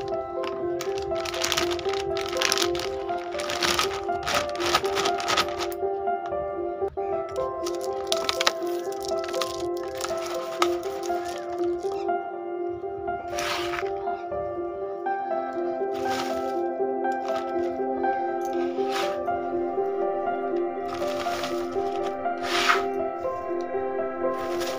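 Moistened old potting soil being pressed and packed into a pot, with wet crackling, squishing and crumbling sounds close up, steady and continuous throughout, with no talking.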